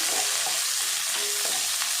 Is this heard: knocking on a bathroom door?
no